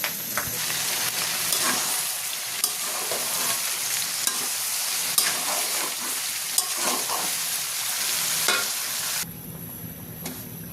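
Mango pickle ingredients frying in hot oil with vinegar and whole garlic, a constant dense sizzle with scattered pops and scraping stirs, cutting off near the end into a quieter hiss.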